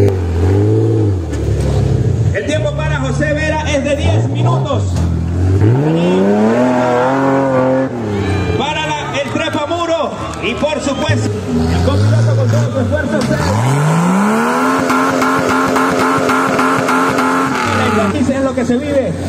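A retro 4x4 rally vehicle in the Venezuela Sport Challenge revs hard, its engine rising and falling through repeated accelerations and gear changes as it drives past, with a commentator talking over it throughout.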